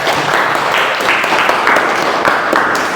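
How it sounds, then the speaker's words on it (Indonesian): An audience claps together at a morning school gathering, a steady, fairly loud wash of applause sustained throughout with slight swells. "kasih aplaus untuk kita semua"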